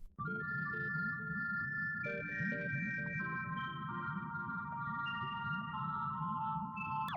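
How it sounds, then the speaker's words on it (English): Underwater sonar pings inside a sunken church, a series of clear tonal beeps ringing over a constant deep rumbling drone, loud and steady throughout. "The sonar picks up a faint metallic echo from within."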